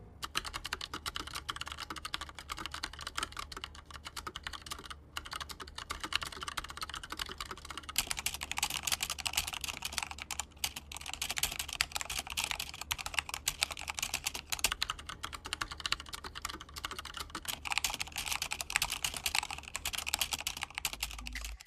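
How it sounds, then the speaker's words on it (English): Continuous, fast typing on low-profile mechanical keyboards, a Tesoro Gram Spectrum with Agile red switches and a Corsair K70 RGB with Cherry MX red switches, giving dense, steady key clatter up close and alone throughout. "a quick little sound test, comparing the Agile red switches on the Gram Spectrum to the Cherry MX red switches on my Corsair K70"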